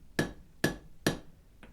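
Three sharp hammer blows on hot steel cutting off a fish-lipped end at a forge, evenly spaced and close, each ringing briefly, followed by a fainter fourth tap.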